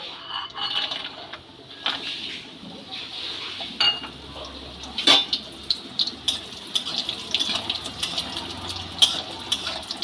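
Dried lentil badi frying in hot oil in a pan: irregular crackling pops and sharp spits scattered over a low sizzle, with a few faint utensil clinks.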